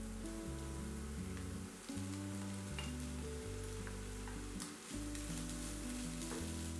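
Boiled minced meat sizzling as it fries with browned onions in a pan, a steady close crackle running throughout with a couple of brief dips.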